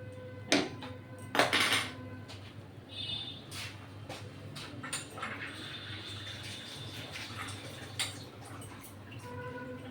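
A milk mixture for chocolate sandesh is stirred continuously in a pan, with scraping and knocking of a utensil against metal, a few sharper clanks early on, then softer steady rubbing strokes close by.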